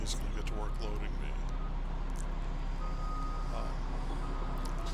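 An excavator repositions at a loading site, its reversing alarm beeping steadily through a continuous low diesel rumble, with a truck idling nearby and faint voices in the background.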